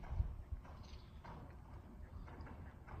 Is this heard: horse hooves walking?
yes